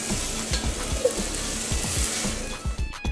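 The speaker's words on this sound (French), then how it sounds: "On peut commencer à mettre notre beurre, notre huile et on peut mettre nos poivrons rouges, notre jambon et on va pouvoir laisser compoter." Butter and oil sizzle steadily around red peppers and ham in a pan, a dense bright crackle with rhythmic lower scraping strokes from stirring, close and fairly loud, no talking.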